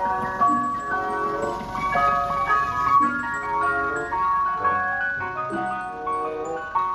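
A toy ice cream truck plays its jingle, a tinny electronic melody of bright, repeating notes with a light ticking underneath, continuous and close throughout.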